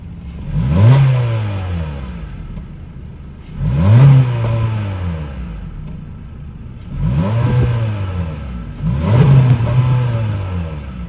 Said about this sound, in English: let's fire up this 2-liter 4-cylinder and hear how she sounds